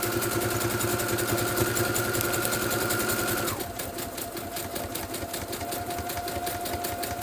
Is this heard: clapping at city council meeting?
no